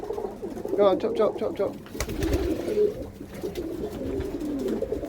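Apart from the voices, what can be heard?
pigeons cooing in a loft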